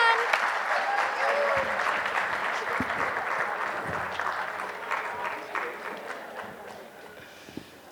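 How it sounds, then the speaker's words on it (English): A crowd at a book launch for "Sort It Early" cheers and claps loudly. The applause is dense at first, then gradually thins and fades over about eight seconds, with a few voices mixed in. "Let's give a huge cheer for Sort It Early."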